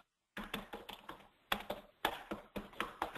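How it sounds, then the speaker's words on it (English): Someone types quickly on a computer keyboard, a faint flurry of irregular key taps in uneven bursts, distant and quiet in the background. "I can hear Simon madly typing away in the background."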